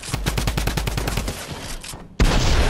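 Minigun fire in a video game: a rapid, evenly spaced stream of loud shots for about a second and a half, then a brief lull and a sudden heavier blast of fire.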